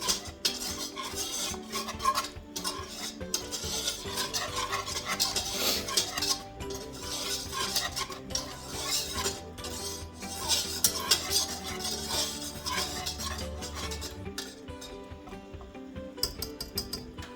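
A whisk scraping steadily around a pan of roux for homemade mac and cheese, busy metallic clinking and stirring throughout at close range with no talk.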